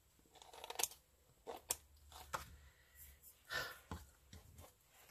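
Scissors snipping through damp decoupage paper, a few short irregular cuts close by, with soft breathy handling noises between them.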